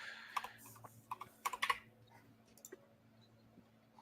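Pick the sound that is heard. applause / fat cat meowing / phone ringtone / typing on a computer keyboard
typing on a computer keyboard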